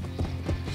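A horse in the Shrek the Third video game gives a quick pair of hoof clops over a low, steady game backdrop.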